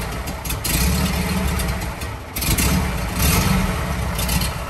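A car engine runs at a loud, steady idle close by, with a throbbing low rumble that swells slightly a few times and no talk over it.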